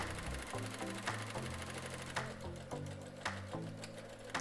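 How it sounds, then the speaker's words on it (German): A sewing machine stitching close to the edge of a fabric bag lining runs steadily and close up, its rapid mechanical needle chatter continuous and faint, with no voices. "Nähen hier einmal knappkantig drüber."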